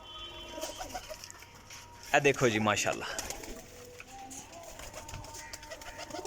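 Mehar pigeons give short low coos and bird calls close by, with one louder burst of calling partway through, while someone talks over them.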